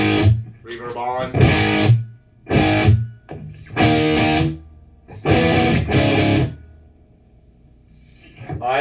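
An electric guitar played through a Crate GT3500H solid-state amp head with its reverb switched on rings out in several separate strummed chords, each decaying into a wash of echo, with gaps of near silence between.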